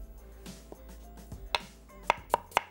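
A knife slices a medium onion on a cutting board, with soft cuts at first and then several sharp, distinct knocks near the end, close and quiet with no talking.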